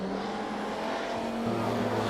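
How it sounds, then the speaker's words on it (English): An Audi Quattro rallycross car races downhill during a round of the 2019 Retro Rallycross Championship, its engine a sustained, loud drone that drops sharply in pitch partway through, over a rough background of other circuit noise. "Quattro with its distinctive engine note powers downhill."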